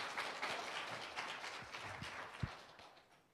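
Audience applauding at a church thanksgiving concert, faint scattered clapping from a crowd that slowly fades out, with a single louder thump near the end.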